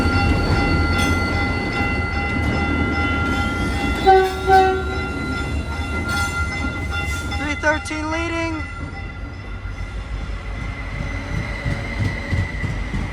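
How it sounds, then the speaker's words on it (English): A northbound Caltrain local commuter train to San Francisco rumbles past with a steady hum and clatter, sounding its horn in a few short blasts, while someone speaks briefly. "here goes Caltrain 135 to 4th and King Street Station in San Francisco"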